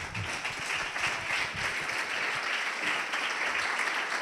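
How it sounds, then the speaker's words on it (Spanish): A PechaKucha Night audience in Salamanca gives a speaker a round of applause; close, continuous clapping that thins out slightly toward the end, with no talking. "un fuerte aplauso a José Abel Bote"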